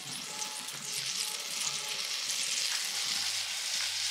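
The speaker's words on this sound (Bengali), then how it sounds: "এবার দিয়ে দেবো পরিমাণ মতো জল, জিরা, কাঁচা লঙ্কা," Water, cumin and green chillies hit a hot pan for a fish curry, giving a steady, close hiss of frying and sizzling that holds evenly throughout with no one speaking.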